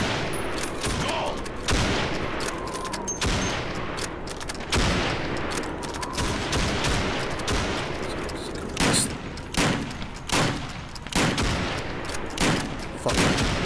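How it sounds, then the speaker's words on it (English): Rifle shots at helmet targets in Call of Duty 2, a series of loud, close cracks spaced a second or two apart over steady background battle noise. "You have 15 seconds to shoot the helmets."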